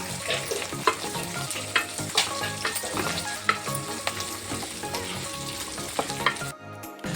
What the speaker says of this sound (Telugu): ఈ విధంగా గోల్డెన్ బ్రౌన్ కలర్ వచ్చేంత వరకు వేయించుకోండి.